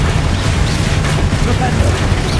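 Spell blast from Hogwarts Legacy, a dark wizard duel: a dense, continuous rumbling boom with crackling texture sustained at steady loudness, heavy low-end roar throughout.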